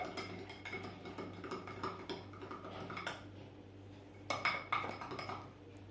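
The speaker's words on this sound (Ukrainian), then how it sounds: "Кладу, перемішую." Baking soda being stirred into liquid in a container: a quiet run of light metallic clinks and scrapes of a spoon against the vessel, with a brighter cluster of clinks toward the end, no voices.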